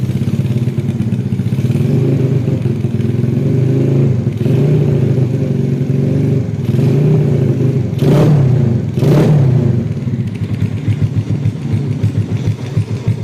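A Yamaha Vega R motorcycle fitted with a two-button Daytona switch starts on its electric starter and then runs at a steady close idle, with a couple of brief louder bursts partway through.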